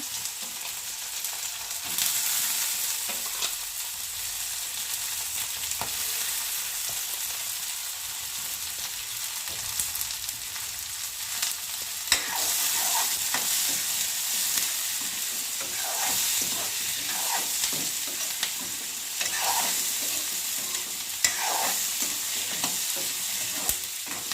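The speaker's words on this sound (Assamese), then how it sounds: "গৰম তেলত দি দিছোঁ পিঁয়াজ নহৰু।" Onion and garlic frying in hot oil in a pan, a steady close crackling sizzle running throughout with intermittent stirring scrapes and small pops.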